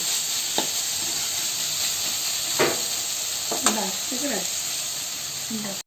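North Karnataka chitranna ingredients frying in a pan, giving a steady bright sizzle with occasional stirring knocks and scrapes, heard close and fairly loud with no speech.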